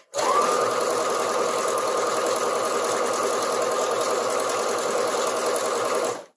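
A sewing machine runs continuously while stitching fabric for a half apron, a fast, even mechanical whir held at a steady level for several seconds with no talking.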